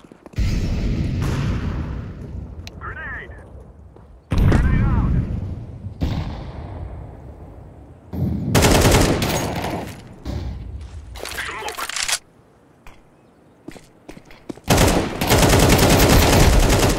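Counter-Strike 2 match with loud bursts of gunfire and heavy grenade-like booms in separate blasts, broken by quieter gaps, while players talk over the action.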